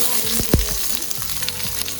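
Onions fry with spices in sunflower oil with a dense crackling sizzle and a few knocks and scrapes of a ladle stirring the pan; close and loud, no voices.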